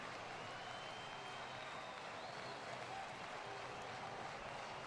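Steady roar of a baseball stadium crowd at a Reds vs. Cardinals game, a broad wash of distant cheering and clapping that holds evenly throughout with no clear peaks.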